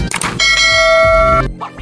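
A bright notification bell chime, a cluster of ringing tones struck near the start and held for about a second before fading, loud and close with no talk.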